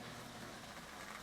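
A Marx 1666 toy steam locomotive with smoke unit running on an oval track, giving a steady, continuous motor whir and rumble with no breaks.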